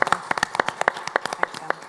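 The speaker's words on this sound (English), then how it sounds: "You can see the loud clapping despite the few people here." A small audience at a business meeting in Athens clapping loudly, with distinct sharp individual hand claps forming a quick irregular rhythm close to the microphone.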